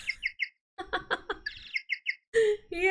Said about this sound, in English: He has a penguin ringtone.